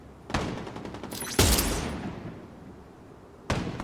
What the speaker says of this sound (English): Alright, let's use my rifle.